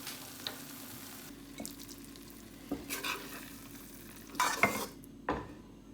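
Fried aubergine bhurta being scooped out of the pan, a faint background hum with scattered scrapes and clinks of a spoon against metal, closer and louder toward the end.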